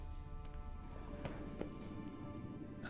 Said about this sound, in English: Another horse. Almost exactly like the last one.